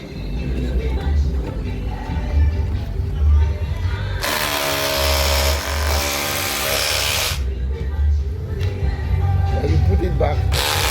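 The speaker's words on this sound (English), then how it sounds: "So this is the power of the Dongcheng Cordless Rotary hammer." Cordless 12-volt Dongcheng DCZC 13 rotary hammer driving an SDS bit into a concrete wall: a loud, dense hammering rattle lasting about three seconds in the middle, with a rough mechanical background hum before and after.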